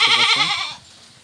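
A goat bleats loudly and close by on a farm during the rainy season, a single wavering cry that fades out after about a second.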